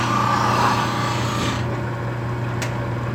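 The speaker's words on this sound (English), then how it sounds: "Real easy to do with the grinder." A grinder puts an edge on a blade in a woodturning shop: a steady motor hum runs under continuous gritty, hissing grinding, close and fairly loud throughout, with one brief bright ring near the end.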